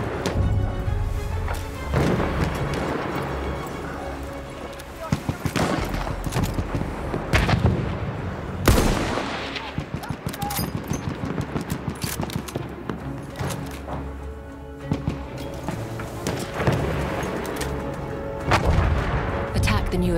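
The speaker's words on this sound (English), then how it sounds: "Wait for the enemy artillery barrage to stop firing." Artillery barrage in the WWI shooter Battlefield 1: repeated heavy booms and thuds, near and far, roll continuously over a dense battlefield din of scattered gunfire, loud throughout.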